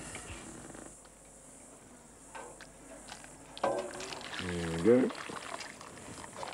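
Hot water poured into a mug of crushed bush lemon grass outdoors in the Top End, a short gurgling pour that rises and swells near the end, with someone speaking briefly over it.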